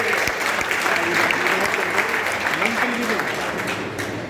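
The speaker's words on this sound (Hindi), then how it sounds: "जोरदार तालियां बजाइए।" Loud, sustained applause from a crowd at a residents' welfare association appreciation event, dense clapping that holds steady before easing slightly at the end.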